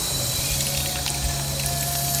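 Water running steadily at a rural spot in Dingalan, a continuous close, fairly loud splashing flow like an open spout, alone with no talk.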